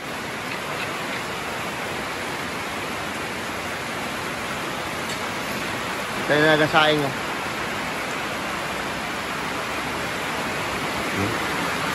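Heavy rain pours steadily in a Philippine rainy-season downpour, a constant dense wash with no pause; a person speaks briefly midway over the roar.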